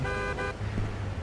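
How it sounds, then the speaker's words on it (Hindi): A car horn honks in the GTA III video game, a short harmonic toot in the first half, over steady game engine and road noise. "समय हॉर्न मारना है यहाँ पे"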